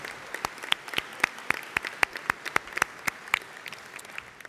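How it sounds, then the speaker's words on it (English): A modest audience at the 2018 AMO Annual Conference Ministers' Forum claps, with distinct, fairly sparse hand claps at moderate volume that continue steadily and then taper off slightly, with no talking. "I'd like you to give them a round of applause"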